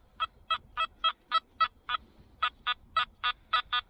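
A metal detector sweeping a beach emits a series of about fourteen short, evenly spaced electronic beeps, clear and close, with a brief gap partway through.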